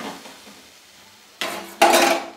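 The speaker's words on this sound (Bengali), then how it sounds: "এবারে মাছগুলোকে দিয়ে দেব।" Small fesa fish being dropped into a cooking pot of curry, two sudden splashing, sizzling bursts in close succession after a quiet stretch, close and fairly loud.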